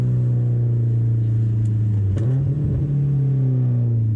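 Subaru STI with a rotated big-turbo setup revving hard, a steady loud engine drone whose pitch dips and rises again mid-rev, close and continuous with no talk.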